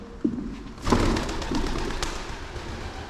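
A pigeon coos inside Chepstow Castle, a few soft, low calls close by in a quiet stone interior, with a brief thump near the start.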